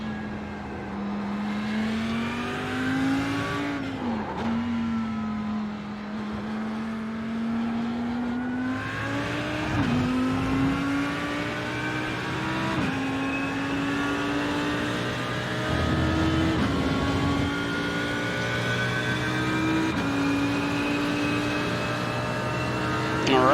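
An Audi lapping a race track at an easy pace, its engine droning steadily from inside the car, pitch rising through each gear and dropping at shifts and braking, loud and continuous throughout.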